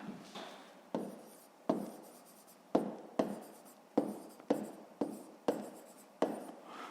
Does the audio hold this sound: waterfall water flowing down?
no